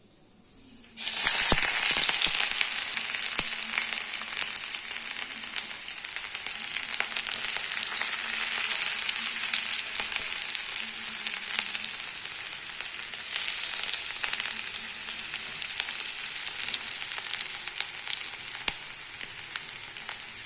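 Ginger garlic paste hits hot oil in a pan with a sudden loud burst of sizzling, then a steady, dense frying hiss that carries on without a break and with no talk.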